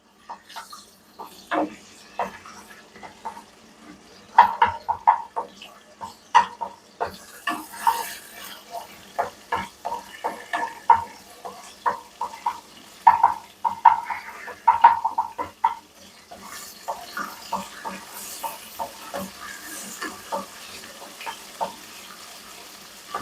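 Ginger paste frying in a hot pan, a steady run of crackling sputters and spits with scattered louder pops, close and fairly quiet with no voices.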